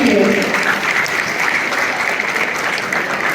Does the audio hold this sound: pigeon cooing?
no